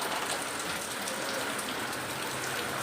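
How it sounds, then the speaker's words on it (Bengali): Steady rain falls outside, a constant even patter and hiss on surfaces with no letup and no voices. "কখনো জোরে কখনো আসতে কিন্তু টানা বৃষ্টি হচ্ছে"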